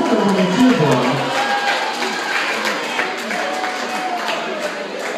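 Crowd cheering and clapping at a pumpkin pie eating contest, a dense steady wash of voices and applause that carries on without a break throughout.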